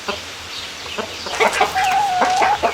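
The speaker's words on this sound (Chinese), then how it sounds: "就抓这个最大的这个公鸡啊" A large free-range rooster in a mountain village clucks close by in a series of short calls that build into a longer, drawn-out cluck near the end.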